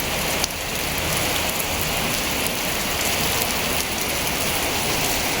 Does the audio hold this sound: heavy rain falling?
yes